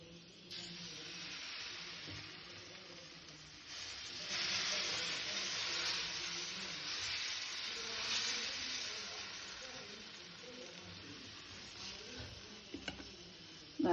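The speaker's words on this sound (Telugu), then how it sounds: "ఇది ఇలాగ అట్లు వేసి చూపిస్తాను." Kanda (elephant yam) attu batter sizzles on a hot pan, a steady close frying hiss that swells and holds for several seconds, with a couple of small clicks near the end.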